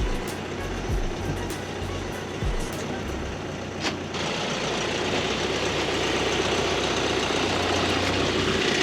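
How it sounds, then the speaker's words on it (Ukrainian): A vehicle engine idles and rumbles steadily as it pulls in at a weighing scale, with a low heavy drone and a brief sharper sound partway through, fairly close, and no talk. "Все, заїжджать? Заїжджай, Сергій Миколайович."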